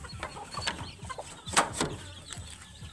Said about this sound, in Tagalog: Pakita ko lang po yung aking bagong pisa ng mga sisiw.